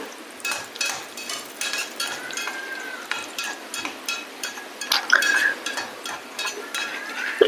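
Cashews and raisins frying in a pan, with a steady soft sizzle broken by scattered clinks and scrapes of a stirring utensil, close up and moderately loud.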